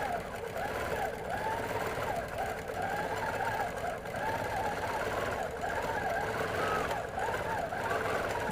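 A Bernina 19 sewing machine with a glide foot runs steadily, its motor whirring in a smooth, continuous hum with a repeating cyclic pulse from the needle stroke, close and even throughout.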